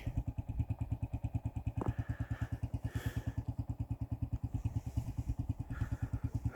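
Motorcycle engine idling close by at Sheosar Lake in Deosai National Park, a steady, fast low thumping with an even beat that holds throughout.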